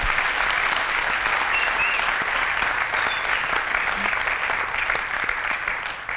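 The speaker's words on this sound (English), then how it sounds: "And yes, round of applause, please." A conference audience applauds steadily, a dense wash of clapping that holds at an even level throughout with no voices rising above it.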